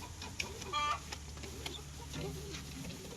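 A village chicken clucking faintly, a few short clucks and a brief warbling call among quiet outdoor background noise.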